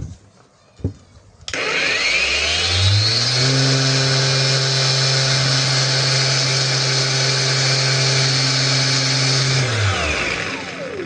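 A KYOAL cordless angle grinder set to speed 3 spins up with a rising whine after a couple of faint clicks, then holds a steady, loud, high-pitched hum for about eight seconds before winding down.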